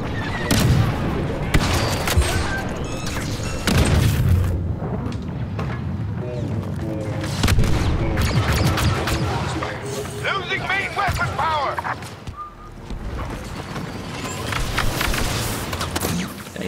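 Ion turrets and blaster fire in a Star Wars Battlefront 2 battle, dense bursts of shots and booms rattling continuously while players talk over the din.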